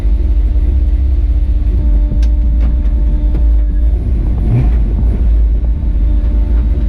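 Pickup truck driving on the road right after its transmission was reinstalled, a steady low engine and road rumble running throughout at constant loudness, with a brief louder swell near the middle.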